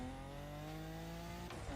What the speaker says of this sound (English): Listen to the engine as well, though.